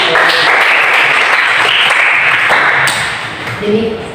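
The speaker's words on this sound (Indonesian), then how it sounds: "berikan aplaus" Applause from a class of students after a group presentation in a classroom lesson, a dense continuous patter of clapping lasting about three seconds before thinning out, with voices mixed in.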